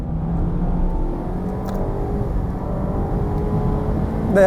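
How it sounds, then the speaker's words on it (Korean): Mazda MX-5 Miata on the move, its exhaust giving a steady, subdued drone with a low rumble under road and wind noise, fairly mild and even throughout. "오히려 아쉽게 느껴지는 건 너무 심심하게 느껴지는 저 배기음이랄까요?"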